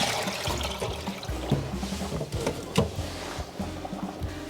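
Water from soaked pork bones splashes and trickles as it drains off, a busy close stream of pours, drips and small clatters over several seconds, fairly quiet and without talking.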